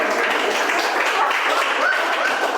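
An audience claps during an office-software efficiency presentation, a steady wash of applause from many hands that holds at an even loudness for the whole stretch.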